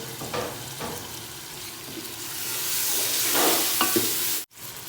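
Tomatoes just added to a pot of aloo gosht fry with a steady sizzle broken by several stirring scrapes, the hiss building before cutting out abruptly near the end, no talking.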